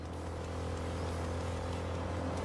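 A motorbike engine in Cyberpunk 2077 runs as a steady low drone, fairly faint and even throughout, with no speech.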